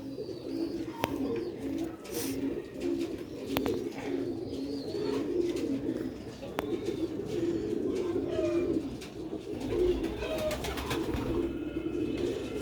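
Pigeons coo repeatedly up close in soft, throaty rolling phrases, several birds overlapping at a steady pace, with scattered chirps and some faint background noise.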